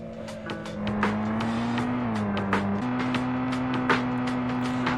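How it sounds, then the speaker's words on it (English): Car engine from driving in the video game Haunted Cities Vol. 3 drones loud and steady, holding a constant pitch with small shifts, alongside repeated sharp clicks or bumps and faint background music. "I kind of wish that the sound of the car was a little more quiet"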